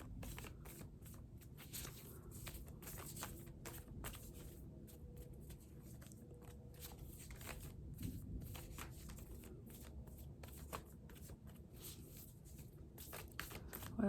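Quiet, steady riffling and shuffling of a card deck, soft repeated flicks over a low background hum for a long stretch.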